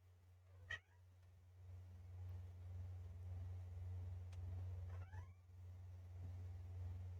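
A pet cat right beside the microphone gives two short meows over a constant low electrical hum, faint and close, with no talking.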